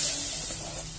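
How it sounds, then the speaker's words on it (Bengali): Spice paste sizzles in a pan while being stirred during a spicy fish and potato curry, a steady close hiss that thins slightly toward the end, with no voices. "এবার মশলা দিয়ে আমি ভালো করে একটু নেড়ে নিচ্ছি।"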